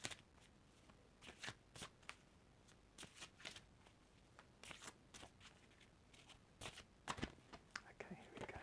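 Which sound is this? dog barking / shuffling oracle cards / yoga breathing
shuffling oracle cards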